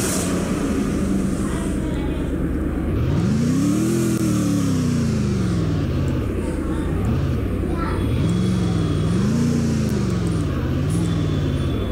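Engine revving of a vehicle in the Free Fire video game, a motorcycle, rising and falling in pitch through several throttle bursts over a steady game background hum, fairly loud and continuous.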